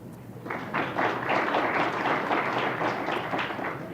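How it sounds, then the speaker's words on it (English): Audience applause at an ELGL Inspire event, a dense, steady wash of many hands clapping that swells quickly and holds loud and close for several seconds. "Give yourselves a round of applause."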